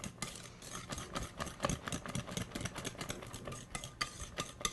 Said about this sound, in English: Now I'm going to whisk this together by hand just a little bit.